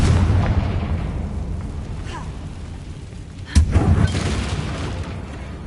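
Confringo explosion spell blast in a Harry Potter video game: a sharp loud boom bursts out midway over a low rumbling ambience, then rumbles away into the background.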